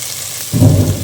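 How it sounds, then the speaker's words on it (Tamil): Tomatoes fry in a pan for a drumstick gravy. The sizzle is quiet at first, then swells into a louder crackling hiss in the second half of this very short moment. "இப்போ நல்லா ஃப்ரை ஆகிட்டுருக்கு."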